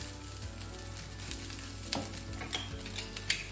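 Garlic sizzles steadily in a frying pan with a constant hiss of frying, while a utensil stirs it and clicks softly against the pan at irregular moments, close and moderately quiet, with no talking.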